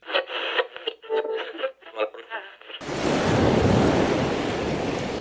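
In a staged tsunami scene, people talk briefly before a loud, continuous rush of surging seawater suddenly takes over and roars steadily to the end.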